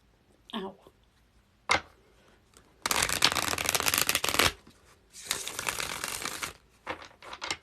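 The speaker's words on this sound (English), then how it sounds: "And the last shuffle for Colin." Tarot cards are shuffled in several bursts during a psychic reading, each a dense, close riffling rustle lasting a second or more, separated by brief pauses and a few isolated flicks.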